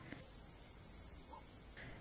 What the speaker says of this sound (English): Those crazy crickets and their desperate late summer calls